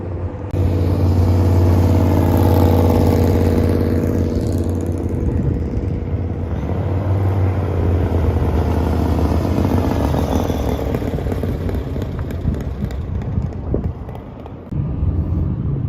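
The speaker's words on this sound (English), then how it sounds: "letting the girls take a couple laps in their bandoleros" Bandolero race cars droning past on slow pace laps around a track, a continuous loud engine rumble and whine that fades and swells as the small cars circle nearby.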